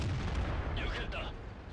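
A tank main gun fires in a tank video game on a swamp map, a heavy low boom that rumbles throughout, with a person talking faintly underneath.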